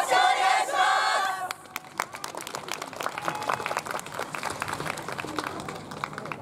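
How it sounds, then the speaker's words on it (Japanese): An audience claps along in rhythm to a festival dance performance at the Nagoya University festival. A loud group shout opens it, then steady, dense hand claps continue under crowd noise. "お手拍子の音、よろしくお願いします。"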